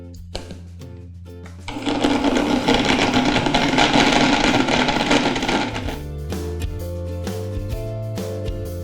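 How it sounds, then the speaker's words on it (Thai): An electric blender whirs loudly for about four seconds as it mixes flour with limewater for a Thai mango-and-coconut-milk pudding, then cuts off, leaving quieter kitchen sounds. "ครบแล้วนะคะก็ปั่นรวมกันเลยค่ะ"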